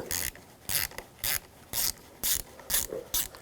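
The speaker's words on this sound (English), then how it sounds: "disconnect the positive. Use the same 10mm socket." A 10mm socket ratchet works a bolt on a 2011-2018 Volkswagen Jetta during brake master cylinder replacement, giving eight quick bursts of rapid clicking, evenly spaced with short pauses between, close and clear.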